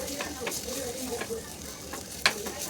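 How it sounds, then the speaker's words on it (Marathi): Masala and curry leaves frying in hot oil for aloo paratha filling, a steady close sizzle with a few sharp crackles and one louder pop near the end, no talking. "कढीपत्ता, मस्त फ्राय करून घ्यायचा."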